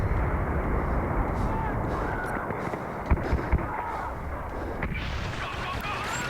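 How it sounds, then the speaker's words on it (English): Grenades go off amid continuous battle noise in the Star Wars Battlefront game, with a few dull thumps around the middle rising out of a dense, steady roar of gunfire and engines. "I just wildfired my grenades"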